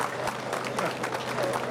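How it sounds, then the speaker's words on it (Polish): Steady applause from a crowd at a cycling race ceremony, a continuous patter of many clapping hands at moderate level with faint voices underneath. "Gorące brawa od państwa."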